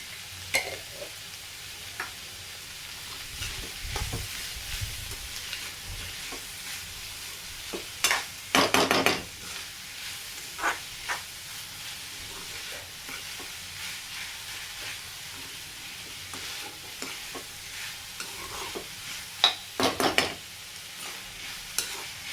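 Capsicum (bell pepper) frying in a pan with salt, stirred intermittently; a steady low sizzle runs throughout, with louder bursts of spatula scraping and stirring near 8–9 and 20 seconds, and no talking.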